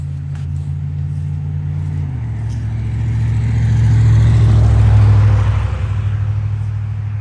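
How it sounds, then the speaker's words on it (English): A car passes on a nearby road beside a no-dig garden, a low engine hum and tyre rumble that swells to a peak midway and then fades, loud and steady with no talk. "I'm not sure where I left off because there's been so much traffic"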